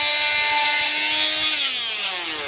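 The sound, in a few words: sawing, cutting a large piece during installation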